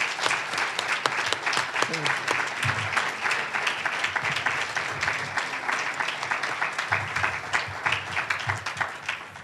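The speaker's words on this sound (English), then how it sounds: "would you join me in a round of applause to honor all of these incredible trailblazing women." Audience applause fills a Founders Day 2022 ceremony at App State honoring women trailblazers, a dense and steady roar of many hands clapping throughout at a moderate distance.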